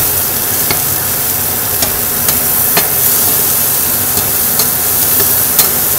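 Tomatoes being stirred into mutton fried rice in a hot pan make a loud, continuous sizzle and hiss, punctuated by sharp spoon clicks and scrapes at irregular intervals.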